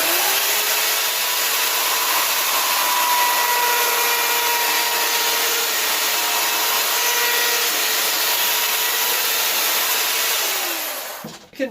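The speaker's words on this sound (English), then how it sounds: "the only thing we want to do with the pins is taper them in on one side so they fit in the hole better" A power tool tapers wooden joinery pins on one side, a loud, steady whine that holds for about eleven seconds before cutting off abruptly. No talking.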